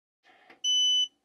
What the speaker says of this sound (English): this is the annoying beep